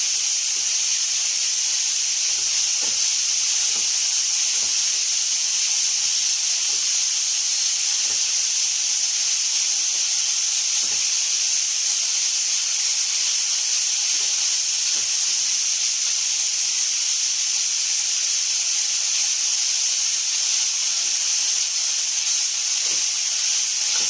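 Grated coconut fries in a pan as its water cooks off, giving a steady, even sizzling hiss that runs the whole time with scattered faint crackles underneath.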